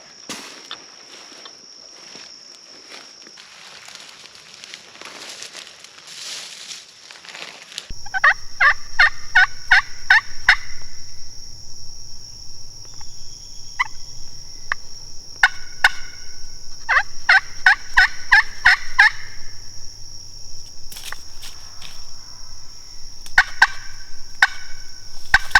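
Wild turkeys gobble in a Florida woodland, several bursts of rattling calls repeating at moderate distance, with rustling footsteps and movement in between.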